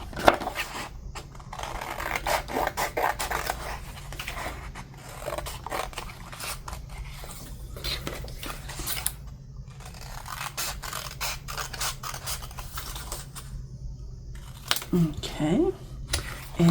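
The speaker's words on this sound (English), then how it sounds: "So let's go ahead and cut this tag out." Scissors snip through a paper tag in a series of close, crisp cuts with short scraping slides between them, while a person talks intermittently over the cutting.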